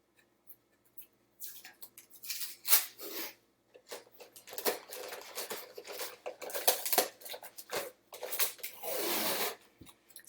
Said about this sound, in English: you should put the tape all the way around, making a good seal between the bottle and the plastic bag.